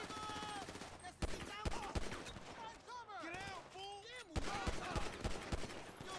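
Gunfire in Grand Theft Auto V: a few sharp, loud shots spaced apart over busy game sound, with someone talking over it.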